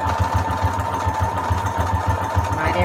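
A sewing machine runs steadily through a long fishbone stitch, its rapid needle thumps pulsing evenly and up close over a continuous motor whir.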